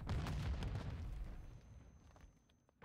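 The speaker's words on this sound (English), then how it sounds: "a nade kill comes out onto Brody very early" A grenade blast in Call of Duty during a collegiate esports match, heard as a loud boom at the start that rumbles and fades over a couple of seconds.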